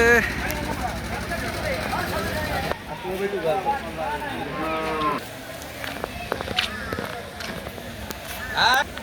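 Several cattle moo repeatedly, loud and close, amid a busy crowd of people talking in the background at the Mirganj market's Eid sacrificial cattle and goat fair.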